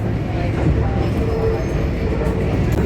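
A local commuter train running in Japan, with a steady loud rumble of the carriage and track noise continuing throughout, no clear talk over it.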